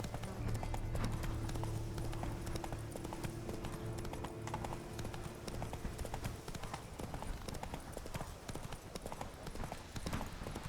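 Horse hooves clip-clop steadily in The Witcher 3, a continuous close rhythmic trotting over a dense game soundscape, with a low droning tone underneath for the first half.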